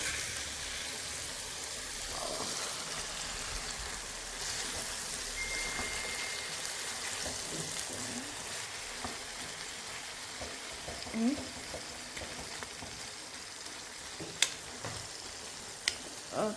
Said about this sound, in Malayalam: മറിച്ചിട്ടൊന്ന് ഇളക്കി കൊടുത്താൽ മതി. ഇങ്ങനത്തെ പാത്രം ഇളക്കി കൊടുക്കുക.